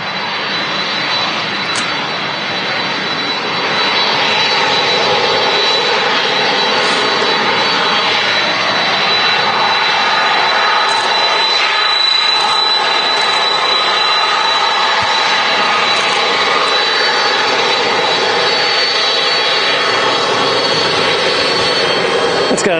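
Boeing 767 wide-body jet at Manchester Airport in the evening, its engines giving a steady, loud broadband roar with a high whine that holds throughout the clip.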